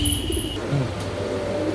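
Giribaz pigeons, a pair of Gorra and silver highflyer birds, coo softly inside a cage in a few low, throaty murmurs against a steady background hum.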